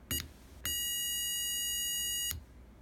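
Two short electronic beeps followed by one long sustained tone, high-pitched and clear, against a quiet background.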